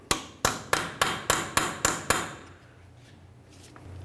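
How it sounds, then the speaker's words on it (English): A hammer driving a punch against the axle on a 1998-2011 Ford Ranger to free it during lower ball joint work: eight quick, evenly spaced metallic clanks, close and bright, then a quiet tail. "Use a hammer and punch, break this free."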